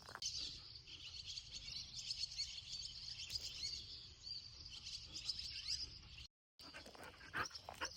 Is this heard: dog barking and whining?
yes